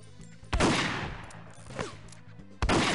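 M16 rifle bursts in 007: The World Is Not Enough: two sharp, loud volleys about two seconds apart over a quiet in-game music bed, with a faint tonal sound between them.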